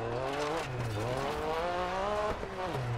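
Rally car in the DiRT 4 racing game, a Group B car on a Wales stage, sliding sideways with steady engine drone and shifting pitch, tire scrub and skid noise continuous and loud throughout.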